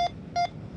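Two short electronic beeps, a brief one then a longer one, sound from a Minelab Go Find 66 metal detector signaling a target on a UK beach, steady and clear over faint background hiss.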